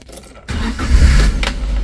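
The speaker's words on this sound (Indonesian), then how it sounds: "Nah, bentar tak starter ya." A Daihatsu Gran Max blind van engine cranks and fires up after a brief quiet moment, then settles into a close, loud idle with a faint click near the end.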